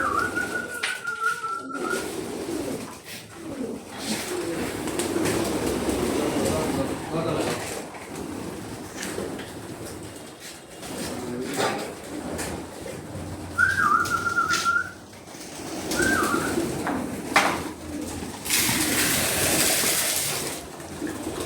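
Racing pigeons in a loft during the rainy moulting season, soft cooing and birdsong mixed with a few whistles, water sounds and background activity, with a person talking intermittently nearby.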